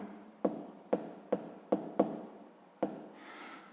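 Pen or pencil strokes writing numbers by hand while working a school maths exercise, with six or seven distinct scratchy taps and short strokes spaced about half a second apart, close and fairly quiet, with no talking.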